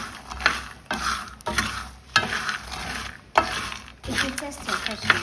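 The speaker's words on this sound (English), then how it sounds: "I know the time it took us to fry this wet groundnut." Wet groundnuts are fried and stirred in a pan. Rhythmic scraping strokes sweep through the nuts about once a second over a soft, continuous sizzle, heard close up and without talk.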